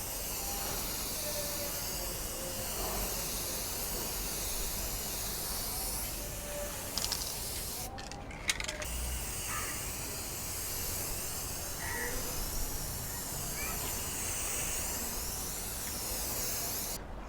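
A spray paint can hisses in steady bursts while painting a Ford Fiesta front grill black at home, close and continuous with brief pauses between strokes.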